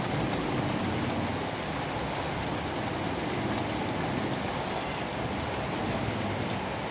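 First summer rain falls steadily and close by, a dense, even hiss of drops drumming on surfaces that holds without pause for the whole stretch, with no voices.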